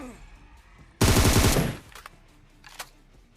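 A loud burst of automatic gunfire in the video game PUBG Mobile sounds for under a second, followed by a few faint distant shots.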